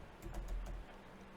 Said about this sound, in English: And after typing in your URL